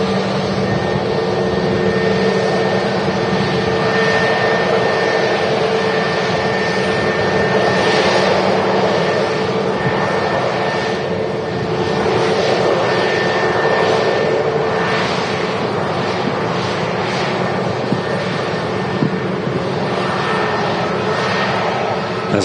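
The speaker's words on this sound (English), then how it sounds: "There's a Norwegian at touchdown as well." A Norwegian airliner at touchdown at Manchester Airport, a continuous, fairly loud jet roar with steady tonal whine that shifts gently as the aircraft rolls out, heard from a distance with no voices.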